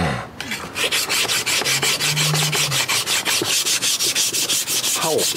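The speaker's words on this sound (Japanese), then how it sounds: "まあちょっと砥石に当ててみましょう。" The flat side of a kitchen knife is rubbed back and forth on a whetstone, producing a steady run of about twenty close, gritty rasping strokes in quick, even rhythm.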